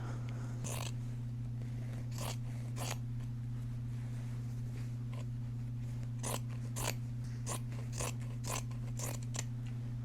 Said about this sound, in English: now I'm gonna cut the crotch area from like this middle line all the way around